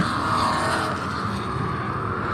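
Stock race cars roar past at Heart O' Texas Speedway during the Big Chill 250, a dense, loud, continuous engine blare from several cars running close together, with no voices.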